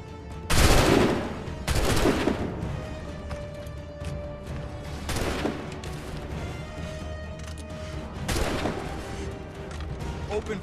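Musket volleys crack out in Assassin's Creed 3, several loud broadband blasts spaced a few seconds apart, the first two close together and heaviest, with fainter crackling and battlefield ambience between them.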